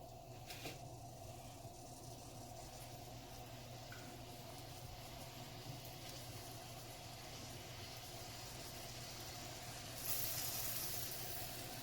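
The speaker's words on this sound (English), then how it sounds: "we'll go ahead and start adding patties" Burger patties sizzle in a hot buttered pan, a steady close hiss and crackle that grows a little louder as more patties go in.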